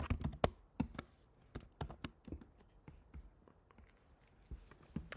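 Keys tapped on a computer keyboard in quick irregular runs, soft and close, thinning out toward the middle and then a few more at the end, alongside faint low murmuring.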